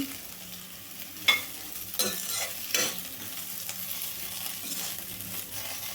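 Raw banana (plantain) slices fry in a pan, a steady close sizzle broken by a few scraping stirs from a spatula, with no voices.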